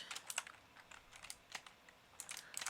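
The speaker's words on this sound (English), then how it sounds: "I'm not even a fast typer." Keys clatter on a computer keyboard in quick uneven bursts of clicks, close but quiet, with short pauses between runs and no talking.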